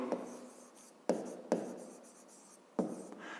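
Pen or chalk scratching out math notation for a fifth-grade exercise, four short bursts of writing strokes, close and fairly quiet, with no talking.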